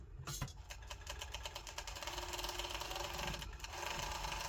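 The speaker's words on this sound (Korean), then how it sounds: "오버록 가다가 코너 지점이 오면 노루발 살짝 들어서 원단을 꺾어준다." Overlock sewing machine stitching along quilted fabric and turning a corner, a fast steady mechanical whir with a brief pause and restart, heard up close without talk.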